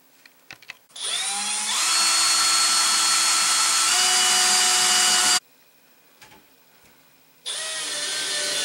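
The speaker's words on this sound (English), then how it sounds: "you can put a screw through the bottom of the bracket into the closed pole and make the whole unit more stable. All you need is an 1/8 inch drill bit." A power drill fitted with an 1/8 inch bit whines loudly as it bores into a closet rod bracket, running for about four seconds, stopping, then starting again.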